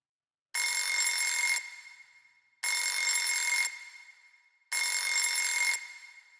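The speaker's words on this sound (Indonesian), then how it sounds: "Kita coba pasang alarm." A phone alarm rings with a downloaded TikTok tone, three identical bright bursts about two seconds apart, each sounding for roughly a second and then fading briefly.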